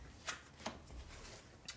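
Cards shuffled for the Earthborne Rangers board game: a few quiet, brief riffling bursts spread over a couple of seconds, faint and close with no talk.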